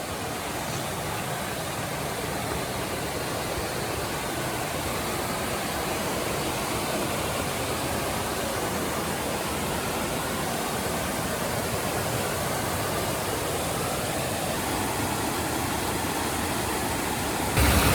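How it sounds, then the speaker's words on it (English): Evolution Creek Waterfall roars in the Sierra along the Pacific Crest Trail, a loud, steady broadband rush of falling water heard up close and alone, without break. "Yeah, this is Evolution Creek Waterfall."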